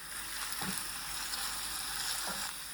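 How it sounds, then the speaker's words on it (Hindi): Minced meat frying with onions, with ginger and garlic in the pan, gives a steady, close sizzle with a few soft stirring knocks and no voice. "कीमे को एक दो मिनट हम फ्राई करेंगे प्याज के अंदर ही"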